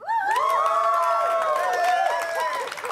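A crowd at a tournament game cheers and shouts loudly and steadily, with many excited, high voices rising and falling together for the whole stretch.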